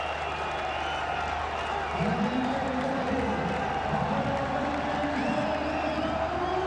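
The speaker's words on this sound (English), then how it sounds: "And the crowd absolutely loving it." Cricket crowd in Lahore during a Pakistan–Australia ODI, a steady distant roar of cheering and applause that swells louder partway through, with whoops over a continuous wash of voices.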